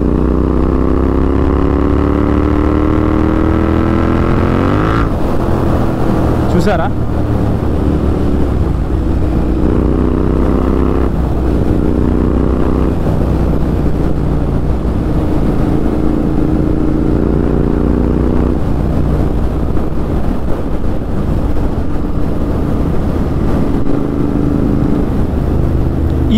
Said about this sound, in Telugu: ఎగ్జాస్ట్ సౌండ్ కూడా దీంట్లో కొద్దిగా ఎక్కువ వస్తూ ఉంది